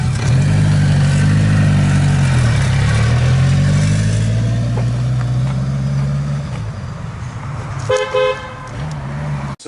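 A 2000 BMW K1200LT motorcycle engine runs steadily up close with a smooth low hum, its pitch dipping and rising slightly as the bike rolls indoors, with a brief clatter near the end.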